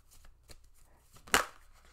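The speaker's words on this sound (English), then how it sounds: "That is not the deck I wanted to shuffle." A deck of tarot cards being shuffled, soft papery riffling and tapping with one sharp louder snap of cards midway, close and quiet with no voice.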